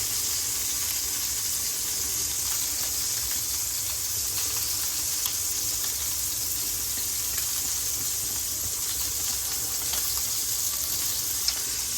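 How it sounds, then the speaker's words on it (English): Creamy pork filet sauce simmers uncovered in a pan at lowered heat, a steady close sizzle and bubbling hiss running evenly throughout with no talk. "I'll let that simmer and I'll stir intermittently"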